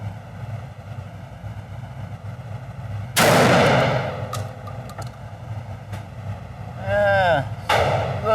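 A Mossberg 940 Pro shotgun fitted with a Holosun optic fires one loud, sharp blast at a target. The report rings out over quiet outdoor ambience, followed later by a brief whistling sweep and a further bang.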